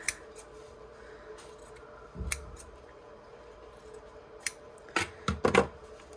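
Scissors cutting a green fabric piece for a Noel wall hanging, several distinct close snips spaced irregularly, with a quick cluster of cuts near the end over a quiet background.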